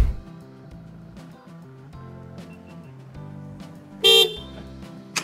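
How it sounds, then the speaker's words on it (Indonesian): A car horn gives one short, loud honk close by, cutting briefly through steady background music. "Tuh, klakson satu kali klakson buat satu nyalain."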